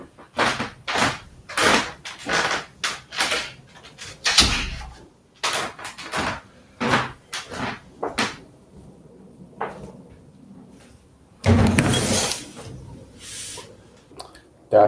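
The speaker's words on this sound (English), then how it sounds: "Let me close my door real quick." A door closes in a room late at night, with a string of knocks, clunks and rattles in an uneven rhythm and a louder, longer burst near the end. The sounds are close and fairly loud, with quiet gaps between them.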